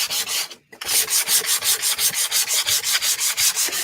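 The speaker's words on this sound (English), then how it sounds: "I just need a clean piece of sandpaper." Clean sandpaper rubbing over painted wood in steady, rapid back-and-forth strokes, close and fairly loud, with a brief pause early on and no voices.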